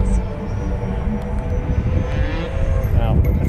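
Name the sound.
RC 90mm jet with Viper motor doing tail slide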